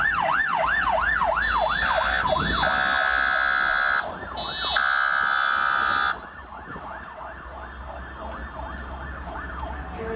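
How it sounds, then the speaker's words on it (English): Wailing sirens from Anthony Albanese's motorcade in Ballarat, pursued by farmers' tractors, sweep up and down loudly, then shift to a steady high tone and back to a faster wail, with road traffic rumbling beneath. "Anthony Albanese's motorcade getting chased through Ballarat by a convoy of angry farmers in tractors"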